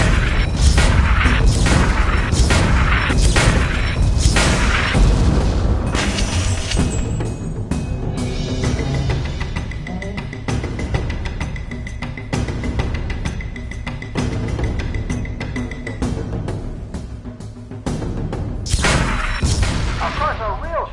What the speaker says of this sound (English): Get on the mortar and finish the piece of junk.